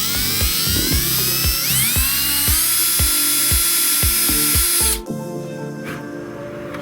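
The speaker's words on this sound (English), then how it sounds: "So we're gonna start drilling. I'm using a 3/32 drill bit" A high-pitched power drill with a 3/32 bit whines steadily, pulsing with repeated bursts as it bites through material, then cuts out near the end leaving a lower hum.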